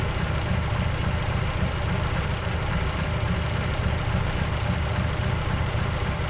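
A 1951 Mercury engine idles roughly just after a cold start, giving a steady, loud, close-up low rumble with a dense mechanical chatter that continues unbroken throughout, with no voices.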